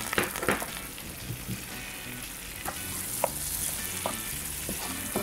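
Butter melting with browned garlic in a pan for salmon in garlic butter sauce, a continuous close sizzle with occasional light stirring knocks and scrapes.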